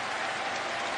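Dense, steady applause from a large wrestling arena crowd, a continuous wash of clapping with no gaps, loud and close, sustained without talk over it.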